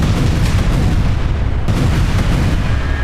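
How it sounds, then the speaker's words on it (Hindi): Heavy bombardment explosions in Khan Younis, southern Gaza, come through as a loud, dense, continuous roar of booms and rumbling blasts, close and overwhelming with no pauses. "दक्षिण गाजा के खान यूनिस में आईडीएफ की भयंकर बमबारी का यह वीडियो बेहद डरावना है"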